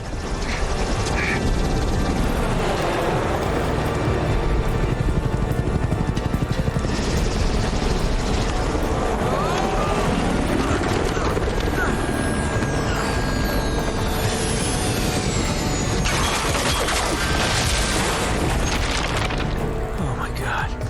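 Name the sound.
helicopter crashing onto a boat in Uncharted: Drake's Fortune video game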